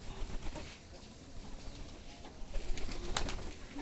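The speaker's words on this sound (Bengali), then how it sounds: "কবুতরগুলো" Pigeons at a pigeon farm coo softly over a steady background hiss, a few low throaty calls rising and falling across a few seconds, fairly faint and with no voices.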